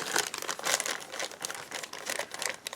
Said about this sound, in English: So I put it in a plastic bag after I split it up